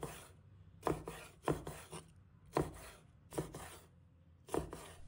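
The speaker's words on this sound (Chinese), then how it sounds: "将其切成均匀的小段" A kitchen knife slices a dried tofu fish into even pieces on a board, with about six sharp, evenly spaced cuts close by and a quiet pause between each.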